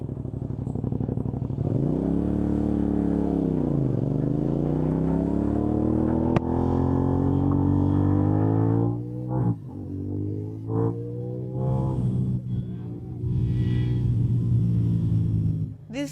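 CFMOTO 450 NK naked motorcycle being ridden, its engine note rising and falling through revs and gear changes, loud and close throughout with rumbling harmonics and brief dips between shifts.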